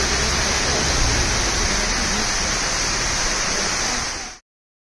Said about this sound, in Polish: Zobacz, jaki wodospad.